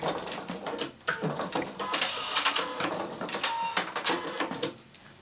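Sewing machine stitching piping around the edge of a quilt, a dense run of rapid mechanical clatter with short pauses, fairly close and steady throughout.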